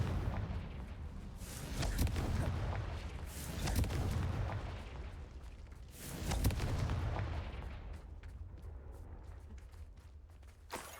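Confringo fire spell blasts in the video game Hogwarts Legacy, a run of rolling booms and crackling bursts that swell and fade over about ten seconds, fairly distant-sounding and without talk.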